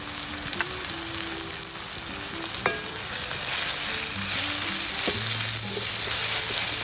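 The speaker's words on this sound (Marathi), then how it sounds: "चांगलं परतून घेऊ" Cabbage with turmeric, masala and garam masala sautéing in a pan for an Agri-style cabbage dish, giving a steady close sizzle and hiss with occasional utensil clinks and stirring scrapes, no voices.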